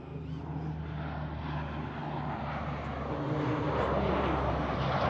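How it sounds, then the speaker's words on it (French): An Airbus A400M military turboprop transport aircraft passes overhead, a steady loud droning roar that swells slightly as it nears, with no talking. "au moment où je parle d'un avion, il y en a un autre qui apparaît, c'est quand même bien. C'est quoi, c'est un A400M ça?"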